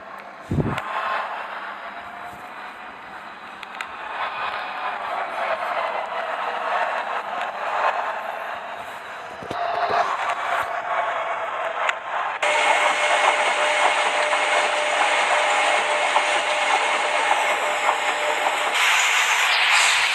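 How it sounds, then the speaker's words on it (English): Longwall shearer cutting coal in an underground mine face with an armored face conveyor hauling the broken coal, a dense continuous grinding roar and hiss that surges louder in later sections. "You can see how the shearer is cutting the coal and how the broken coal is carried out of this face by armored face conveyor."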